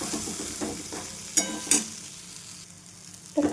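White sesame seeds roasting in a pan with softened onion and tomato, a soft steady frying hiss with a few sharp scrape-and-clink stirring accents, close and without talk.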